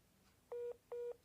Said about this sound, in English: Oh my god, Corey's phone calling